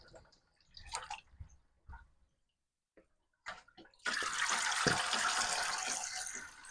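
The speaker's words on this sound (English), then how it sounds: "They're going to pop these through the colander now and then straight back into this bowl" Cooked noodles for a hot and sour noodle salad are tipped into a colander, sending a loud gush of draining water after a few quiet clinks and handling noises.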